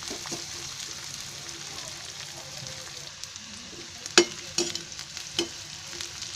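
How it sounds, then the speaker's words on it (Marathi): Capsicum sizzles softly in a little oil in a pan, a steady low frying hiss with a few sharp clicks and taps of stirring toward the end. "शिमला मिरची आहे ना ती पहिली तेलात टाकते."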